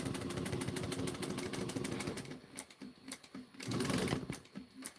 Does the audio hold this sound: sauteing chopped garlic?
no